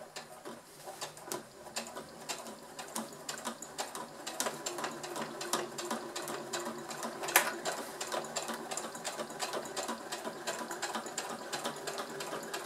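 Sewing machine stitching the seam of a fabric glasses case, a quiet, rapid, steady mechanical ticking that runs without a break, with a brief louder click partway through and no talking.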